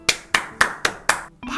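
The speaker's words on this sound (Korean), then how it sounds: "박수가 절로 나옵니다." Five or six sharp, evenly spaced hand claps ring out alone at close range, each a crisp broadband smack with a short decay.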